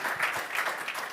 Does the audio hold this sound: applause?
yes